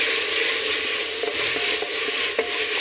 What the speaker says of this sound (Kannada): ಚೆನ್ನಾಗಿ ಫ್ರೈ ಮಾಡ್ಕೊಳ್ಳಿ ಸಾಫ್ಟ್ ಆಗುವವರೆಗೆ.